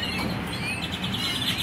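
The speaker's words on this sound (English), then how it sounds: "Look at the bird, guys, over there." A wild bird chirps outdoors in Texas, thin repeated tweets over a steady bed of ambient outdoor noise, with no voices.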